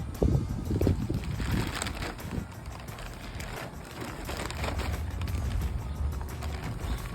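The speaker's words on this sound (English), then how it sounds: "It's windy out." Gusty wind rumbles against the microphone outdoors, a continuous low buffeting roar with rustling, no voices.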